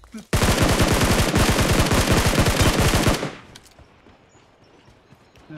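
A rapid burst of automatic gunfire in PUBG Mobile rattles for about three seconds, then stops, leaving quiet background noise.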